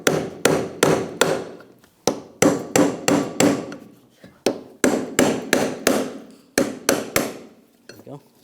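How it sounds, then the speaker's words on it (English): Sharp metallic taps of a hammer striking a brass punch against a fuel pump lock ring on a 2011-2018 Ram 1500 3.6L, delivered in quick clusters of three or four with brief pauses, close and ringing. "Just get in here and tap with a hammer."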